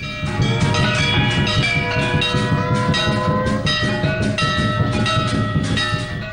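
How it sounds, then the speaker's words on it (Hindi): A conch shell is blown during temple worship, its loud, sustained droning tones layered over continuous ringing bells and dense clamour for the whole stretch. "शुरू हो गया शंखनाद।"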